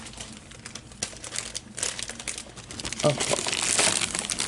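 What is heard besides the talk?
plastic package of Dollar Tree containers rattling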